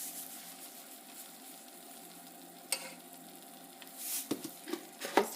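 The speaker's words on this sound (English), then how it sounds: "it's starting to sizzle in here" Soft, steady sizzling of seasoned food frying in a pan while making homemade pizza, with a few clinks and stirring sounds near the end.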